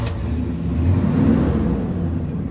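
A 1972 Oldsmobile 442 engine runs after firing up, a steady close rumbling idle with a slight swell in the middle, no voices over it.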